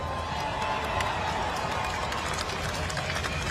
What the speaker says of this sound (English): I don't know if you can hear that thunderous applause from the crowds